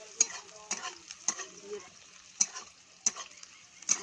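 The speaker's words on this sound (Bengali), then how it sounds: "আর একটু পেঁয়াজ ভেজে নিয়েছি। আচ্ছা, দিয়ে এবারে এই মশলাটা দেব" Onions and spice masala frying in a pan sizzle softly while a utensil stirs and scrapes in irregular bursts, with a brief spoken word in between.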